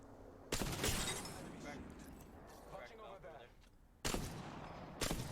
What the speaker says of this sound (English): Kind of just looking at a sniper battle here.